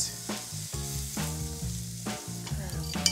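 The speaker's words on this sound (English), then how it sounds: "as soon as oil hits garlic and onion, just, just unlocks all of your senses" Onions, bell pepper and minced garlic frying in hot olive oil in a pot: a steady close sizzle with a few stirring scrapes and clinks, no voices.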